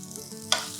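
Chicken keema sizzles softly as it is stirred in a pan, a short, quiet frying hiss with one sharper scrape partway through.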